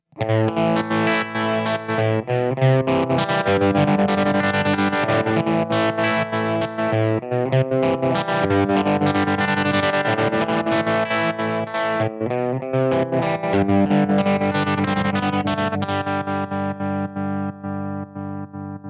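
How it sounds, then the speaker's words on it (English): An electric guitar through a Boss GT-10 tremolo effect plays sustained chords whose volume pulses rapidly, the pulsing rate shifting over time, loud and continuous, fading slightly at the end. "now we have a tremolo on, but the rate changes"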